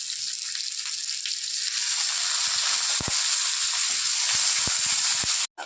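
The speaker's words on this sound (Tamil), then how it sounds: "வறுத்துக்கணும் வெங்காயம் கொஞ்சம் தீஞ்சி இருக்கணும்" Steady, bright sizzling of onions and curry leaves frying in hot oil, continuous and close, with a few soft clicks near the end.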